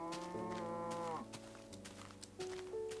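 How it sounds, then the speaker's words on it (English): A Minecraft cow moos in a few drawn-out, wavering calls with brief shifts in pitch, close and clear, with no talk over them. "Hey, cow."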